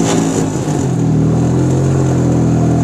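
A Jawa 250 motorcycle engine revs in a short first gear, a loud, close, steady drone with a strong low throb that holds level throughout.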